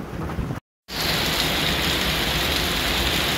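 Heavy rain pours down on a flooded farm in St. Mary Parish, Jamaica, a loud steady hiss that cuts out for a moment near the start and then returns at full strength.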